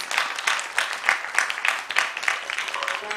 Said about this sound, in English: Please give Bhavna a huge round of applause for that power-packed performance.